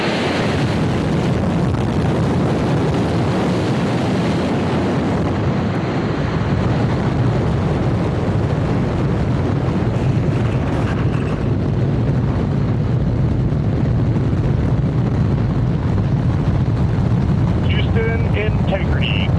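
Artemis II rocket launch with its core stage engines firing: a loud, dense, continuous roar and rumble, buffeted like wind, that holds steady for the whole span.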